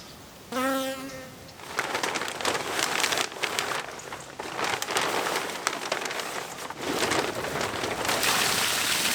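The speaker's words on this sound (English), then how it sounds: "It just absolutely hammered it down with rain out of nowhere." Heavy rain suddenly hammers down at a small cabin build site, a dense, loud, continuous roar of drops drumming on surfaces after a short buzzing sound at the start.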